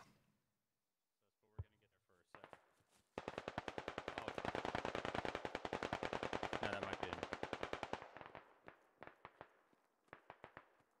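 Rapid automatic gunfire in the Squad video game, a long dense burst of sharp shots in steady rhythm after a couple of single cracks, then scattered trailing shots.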